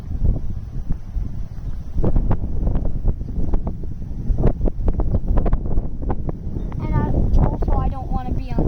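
Strong hurricane wind buffets the microphone at a park playground near a slide, a loud continuous low roar with gusting surges, while people talk and shout over it.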